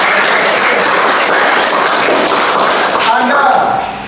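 Students at a first-day retreat for SMA Santo Arnoldus Janssen Kupang applaud together, a loud, full roomful of clapping that stays thick and steady before thinning slightly at the end.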